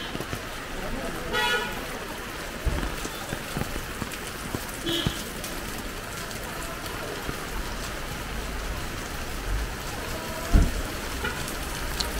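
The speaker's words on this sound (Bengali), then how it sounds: "মুষলধারে বৃষ্টি নামছে" A heavy downpour pours steadily around a Darjeeling railway setting as a dense, constant hiss of rain on surfaces. A few thuds and a brief car horn sound in the background.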